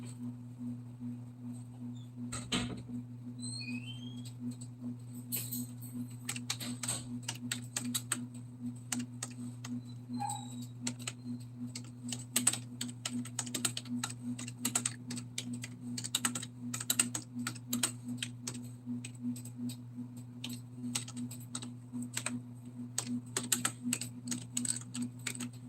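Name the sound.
typing on computer keyboard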